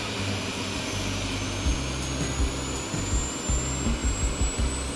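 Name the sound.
aircraft engines running after auto start in X-Plane 12 video game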